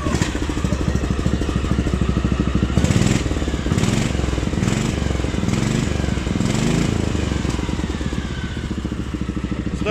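An Irbis Tungus 600LE X-Motors Edition snowmobile engine with a modified carburetor runs at a steady, rapid, clattering idle, fairly loud and close, with slight surges in its rhythm.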